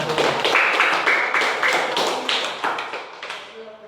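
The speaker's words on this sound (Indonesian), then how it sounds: "tepuk tangan buat Mas Faisal dari kelompok" A small classroom group claps together, with dense, rapid handclaps close by for about three seconds before thinning out and fading as a voice begins to speak.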